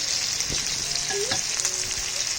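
Garlic sautéing in hot oil in a pan for stir-fried yellow burrhead greens, a steady close sizzle with a few faint stirring clinks, no voices.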